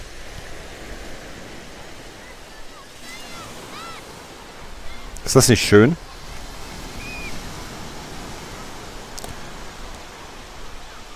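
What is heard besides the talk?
sea waves washing ashore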